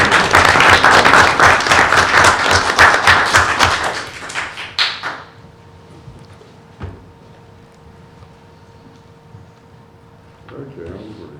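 An audience at a school board meeting claps loudly for about four seconds, then the clapping fades out into quiet room tone with a few thumps and a brief voice near the end.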